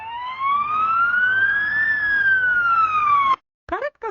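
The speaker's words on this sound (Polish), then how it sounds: "pogotowie już jedzie" An ambulance siren in a Roblox game wails in one long rising and falling sweep, loud and close, then cuts off abruptly and leaves a few brief clicks.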